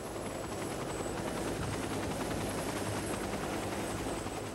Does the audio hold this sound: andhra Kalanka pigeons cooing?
no